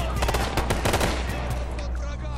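Rapid automatic weapon fire in the video game Ghost Recon: Future Soldier, a loud dense burst of repeated shots that tapers off, with faint voices underneath.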